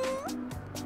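A short meow from an anime cat-girl character in the KARAKARA video game, a voice imitating a cat with a rising, then falling, tone, clear and brief.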